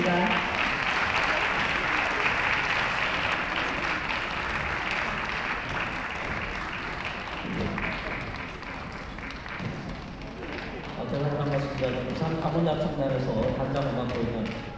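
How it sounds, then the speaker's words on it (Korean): An audience at the 2017 Busan Choral Festival & Competition applauds steadily for several seconds, the clapping easing off as someone begins speaking near the end. "round of applause"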